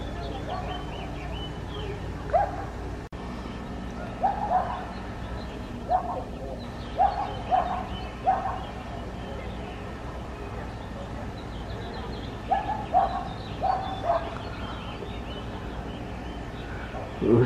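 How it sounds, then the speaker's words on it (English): A dog barks in short, separate bursts across a quiet outdoor scene on a holiday weekend. The barks come in small clusters, moderately distant, with long gaps and a faint steady background hum, and no one speaks. "Who's that barking?"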